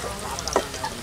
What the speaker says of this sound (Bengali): তেল গরম হয়ে গেছে, এবার আলুগুলো আমি ভেজে নেব।